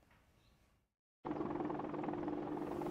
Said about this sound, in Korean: 미군 아파치 헬기가 굉음을 울리며 마을 위를 통과합니다.